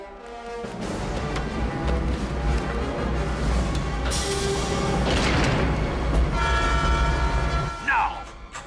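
A heavy, continuous video game train rumble with rattling wheels and a long horn-like blare, loud and near, fading away at the end, from 007: Everything or Nothing.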